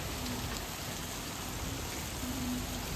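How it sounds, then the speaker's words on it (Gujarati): Heavy rain pours steadily onto surfaces in a low-lying, waterlogged area, a dense, unbroken hiss that stays loud and even throughout with no voices. "તમે જોઈ શકો છો કે કેટલો વરસાદ પડી રહ્યો છે"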